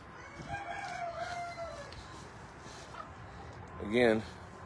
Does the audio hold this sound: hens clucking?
yes